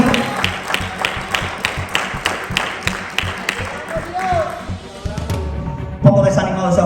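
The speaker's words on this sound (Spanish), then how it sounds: "Un poco desanimado ese aplauso" A church congregation clapping in a rhythmic, fairly loud beat that loosens and thins out midway, followed by a brief pause and other noise.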